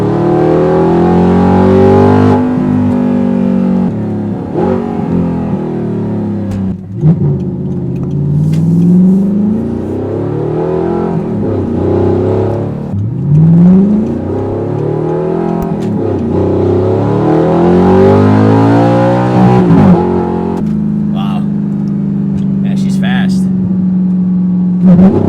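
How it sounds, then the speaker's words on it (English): Audi R8 V8 engine revving hard, close and loud, in repeated rising and falling sweeps with a thick, heavy gurgle between them, and a voice talking over parts of it. "there's just something about a meaty V8 that sounds tough"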